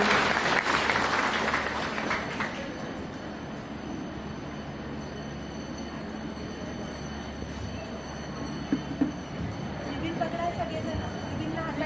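An audience at an inauguration event applauds to welcome a guest, a loud burst of clapping at the start that fades into a lower murmuring crowd, with a voice speaking over it.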